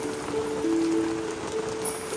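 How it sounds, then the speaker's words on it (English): Steady rain falling in South Carolina, a soft continuous patter on surfaces with a faint tonal hum running underneath, no voices. "And it's raining in South Carolina. Check out the rain."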